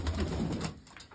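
Pigeons coo softly in a loft, a low, throaty murmur that runs through the brief moment, fairly close and quiet.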